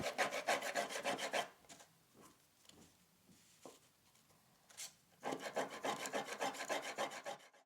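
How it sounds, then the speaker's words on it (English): A 100 grit sanding block scrapes plastic cable ties in quick back-and-forth strokes, loud bursts at the start and end with a quieter stretch of light scuffs and taps between. "Using a sanding block with about 100 grit sandpaper, sand the cable ties down on each side so that they are all the same length."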